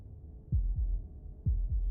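Heartbeat from the video game Slay the Princess: deep, close double thumps repeating in a slow, steady rhythm, heard alone with no talking.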